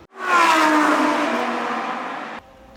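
A Lamborghini Huracán EVO engine with a revised, more aggressive exhaust system revs loudly and steadily for about two seconds, then cuts off sharply, and a brief blip follows.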